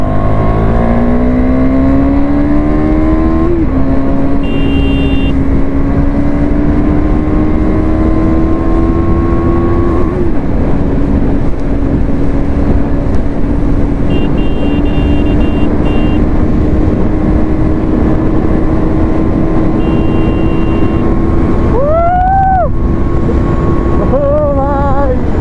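A KTM Duke 390 motorcycle accelerates hard on a wet road with ABS switched on. The engine is loud and close, its pitch climbing in repeated sweeps through gear changes, with a steady rush of wind and road noise underneath.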